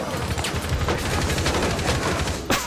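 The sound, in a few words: gunfire in the video game Rainbow Six Siege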